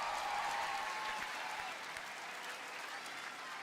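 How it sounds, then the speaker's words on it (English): An audience at an outdoor Canada Day concert applauds the house band, a broad wash of clapping that starts fuller and gradually thins and softens, with no one talking over it. "can we please give a big round of applause to our wonderful house band?"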